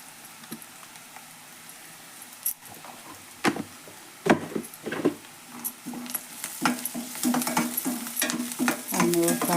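Onion, turmeric and masala fry in hot oil while a spoon stirs and scrapes the pan, quiet sizzling broken by sharp scraping knocks that grow busier and louder toward the end.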